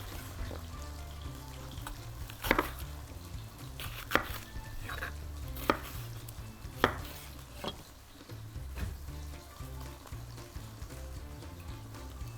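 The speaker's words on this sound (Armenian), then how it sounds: "Գդրում ենք կարմիր բաղբեղը։" A knife chops red bell pepper on a board, about five distinct knocks spaced a second or two apart over a low kitchen hum and faint sizzling, with no voices.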